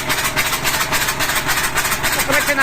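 A T-40 tractor diesel engine idles at about 700 rpm, a fast rhythmic knocking chug that is loud and close, running steadily throughout.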